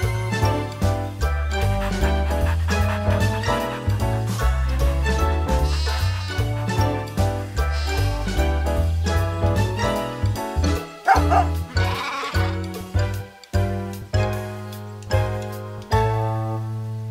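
Cartoon sheep bleating in a farm scene, repeated loud bleats and jingling bell-like tones over a bouncy musical score, with a dog-like bark among them.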